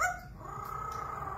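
A talking parrot imitates a dog with a quiet, single short bark-like yip, followed by a faint sustained tonal sound, close by and with no talking.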